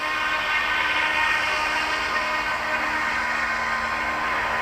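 Rotors of an Eachine E200 SH-60 SeaHawk RC helicopter spinning up to full throttle, a steady loud high-pitched whine and rushing hum held close and continuous throughout, with no talking.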